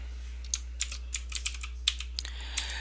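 Keys clacking on a computer keyboard in a quiet room, a run of about a dozen separate, uneven taps spread across a few seconds while someone enters text into an Excel spreadsheet.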